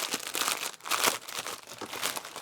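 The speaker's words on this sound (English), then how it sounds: "unwrap it. It's probably something plasticky." Plastic packaging around a thrift-store tablecloth crinkles and crackles as it is unwrapped, in close, busy bursts of rustling that swell and fade over a couple of seconds with no talking.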